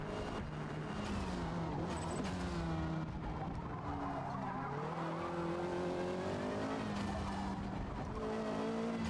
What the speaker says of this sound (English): I know with them out my way, I can really start pushing this car.